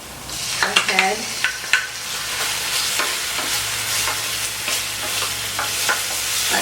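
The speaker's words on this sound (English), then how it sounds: "These onions smell so good sauteing." Onions with garlic sautéing in a pan, a steady close sizzle with a few clinks and stirring scrapes near the start, continuous throughout.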